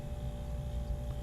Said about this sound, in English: It's the sound of a refrigerator running.